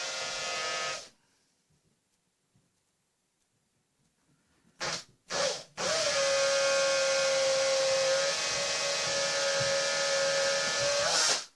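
A power drill with a 2.5mm bit drills pilot holes in cupboard doors, whining in steady bursts, a short run, a pause, quick stops and starts, then a long continuous high-pitched drilling run up close.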